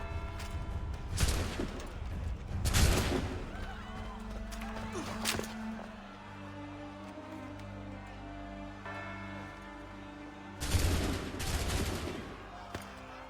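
A volley of musket fire erupts in Assassin's Creed III, several sharp cracks bunched together at the start, then a quieter stretch with voices and a second ragged burst of shots near the end.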